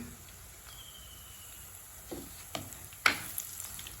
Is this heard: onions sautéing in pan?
yes